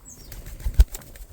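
A homing pigeon returning from a 10 km flight swoops in and flaps its wings, giving a brief, close whoosh of wingbeats that peaks in a single burst against a quiet outdoor background.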